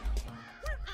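A crow in the video game Pogostuck gives two loud, close caws about half a second apart.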